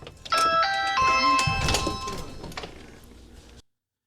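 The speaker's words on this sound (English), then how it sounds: "See if it rings inside here. It does." An indoor chime from a Ring doorbell plays a few clear descending tones inside the house, followed by a thump and some faint rustling before it cuts off.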